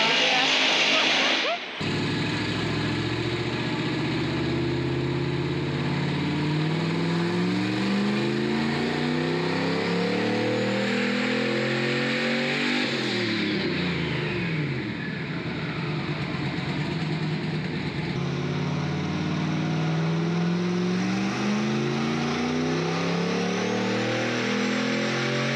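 Turbocharged stock-block Ford Foxbody engine on a dyno, revving loudly and continuously as the pitch climbs through the RPM range and falls back, sustained close engine roar for over twenty seconds.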